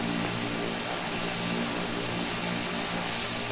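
Steady, loud drone of an EMB-120 twin turboprop in a flight simulator, propeller hum and engine whine filling the whole stretch without a break as it rolls for takeoff, no voices.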